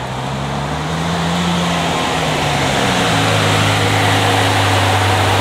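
A Ferrari F12 V12 engine idling close by, a steady deep rumble with a constant low hum and slight shifts in pitch, loud and continuous without talk.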